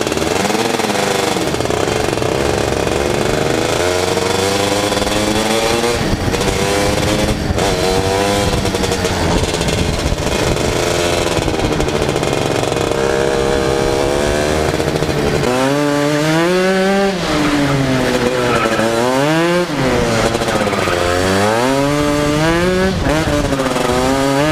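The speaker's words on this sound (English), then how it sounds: "this week I also did a few more laps in my 250cc shifter cart" A 250cc shifter kart engine howls through laps, its loud buzzing note rising and falling steadily with repeated gear shifts and revving swoops, close and continuous throughout.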